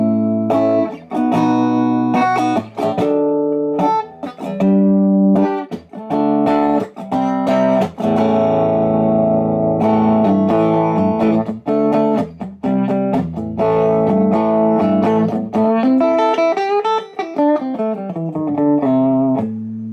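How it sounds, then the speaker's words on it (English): Clean electric guitar with a P90 and a mini humbucker, both pickups on in the middle position, played straight into a clean Fender-type amp; continuous chords and single notes ring out loud and close, with no talking. "that's the sound of just my guitar plugged straight into the amp"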